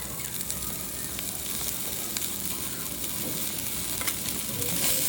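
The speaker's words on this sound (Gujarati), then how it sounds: "આ બધી જ વસ્તુઓનો વઘાર કરી લઈશું." Capsicum and carrot stir-fried in hot oil in a pan, giving a steady close sizzle and frying hiss with light stirring scrapes, continuous throughout without speech.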